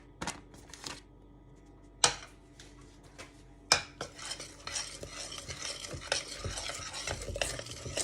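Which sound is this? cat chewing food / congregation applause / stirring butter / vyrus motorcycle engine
stirring butter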